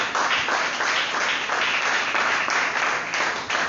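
A church congregation breaks into sustained applause and cheering, a dense, steady wash of many hands clapping that holds at an even level throughout without any speech.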